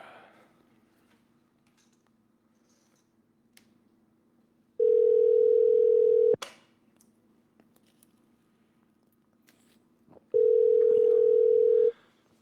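A telephone dial tone sounds in two steady bursts of about a second and a half each, separated by a quiet pause, clear and close while a call is being placed.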